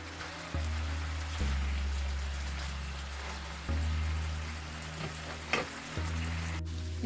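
Malai chicken curry fries steadily in a pan over a medium flame after being flipped, with a continuous close sizzle, a low hum and a few soft clinks.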